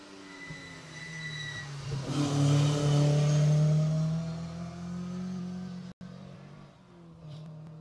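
A rally car engine on a tarmac stage rises to a loud, sustained rev, swelling then easing off as it passes, with a brief cut-out near the end before the drone resumes further away.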